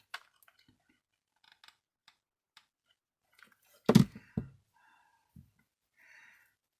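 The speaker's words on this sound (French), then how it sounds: "je couperai, enfin je reprendrai, je recouperai et ainsi de suite" Scissors snipping paper for a Christmas wreath decoration, a couple of quick close cuts in an otherwise quiet room with faint handling noises.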